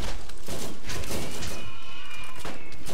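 Aliens firing in the game Borderlands: a loud, dense burst of rapid gunfire and impacts, close and continuous, with laser-like whines sweeping through.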